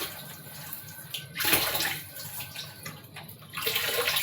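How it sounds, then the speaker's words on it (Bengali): Water splashes and runs while brinjal is washed by hand in a kitchen, with a louder burst of sloshing midway and again near the end, close and continuous. "বেগুনটা আমি ধুয়ে নেব"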